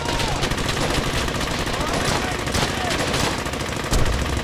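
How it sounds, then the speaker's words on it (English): Sustained MG-42 machine gun fire in the Brothers in Arms: Hell's Highway video game, a dense, continuous rattle of rapid bursts with scattered battlefield gunfire, loud and close throughout. "Attack that MG-42!"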